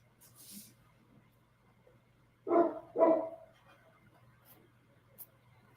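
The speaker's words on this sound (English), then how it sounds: "The dogs are barking and stalking the neighbor" Dogs bark at a neighbor, two sharp barks in quick succession at moderate distance, with a faint distant bark later, over a low steady hum and otherwise quiet background.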